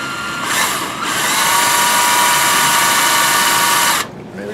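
A power drill drives screws into a homemade vinyl gate, whining steadily for about four seconds at close range, then stopping abruptly.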